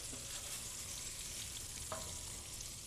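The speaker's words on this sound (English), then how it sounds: "All right, we've seared these off" Lean pork loin pieces sear in a pan with a steady close sizzle, a constant fine crackling hiss and one faint clink partway through.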